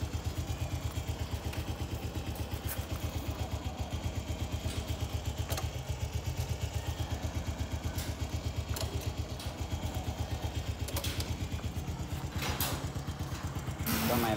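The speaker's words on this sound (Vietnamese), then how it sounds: "Máy nổ á, nó có kêu cái bánh xe lồng á" A 2004 Thai-market Honda Wave 100cc motorcycle engine runs at a steady idle. It gives a fast, even, clattering putter that is close and continuous, with a few faint sharp ticks and knocks over the top.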